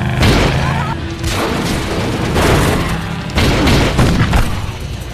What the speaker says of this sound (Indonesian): hingga terjadilah aksi tembak-tembakan yang sangat epik